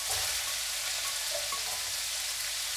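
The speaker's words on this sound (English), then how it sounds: "Now I'm going to add the onions." Onions sizzle in a hot pan with cooked meat for yakisoba, a steady, even frying hiss heard alone at moderate level.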